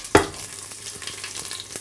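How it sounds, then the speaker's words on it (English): Prawns frying in a pan give a loud, continuous sizzle with scattered pops, opening with a sharp stirring scrape, no talking. "Oh, it's sizzling away, it's popping away."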